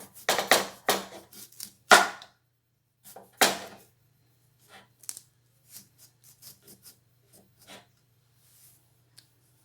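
A knife slices through raw turnip on a board: several crisp, loud cuts in quick succession at first, then a string of fainter, sparser taps and clicks, close up with no talking.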